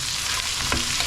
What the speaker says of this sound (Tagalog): Prito nyo na rin yung dyan. yung hotdog.